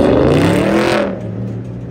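A Lamborghini Aventador revs hard on a city street in Washington DC, a loud close roar with rising engine tones that drops off sharply after a second, leaving a fading rumble.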